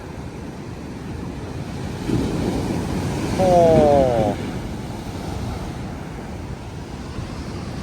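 Ocean waves surging at T-Rex Beach on Nusa Penida, Bali, with a broad roar of moving water and wind buffeting the microphone, swelling to a louder rush midway, while someone speaks briefly.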